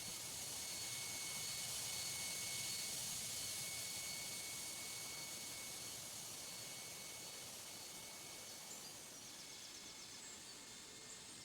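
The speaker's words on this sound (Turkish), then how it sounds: "Southwest şu anda harekete başladı" Southwest jet airliner engines spooling up as the plane begins to move in the airport game Tower Simulator 3: a faint, continuous turbine roar with thin high whines, slowly easing off.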